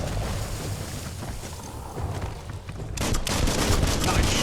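Gunfire in the Biomutant action game: a dense burst of loud, sharp shots starts partway through and continues steadily over a broadband background of game ambience.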